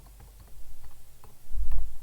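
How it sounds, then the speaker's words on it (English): Quick irregular clicks of a computer keyboard being typed on, played near and fairly soft, in scattered bursts with a low thump near the end and no talk. "just start typing with the keyboard"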